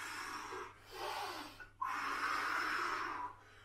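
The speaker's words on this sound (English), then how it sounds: "I want everybody to really focus on their breathing right now." Heavy breathing during a kids' winter sports workout: two long, loud breaths, each a forceful inhale or exhale, separated by a short pause, close to the mic and with no talking.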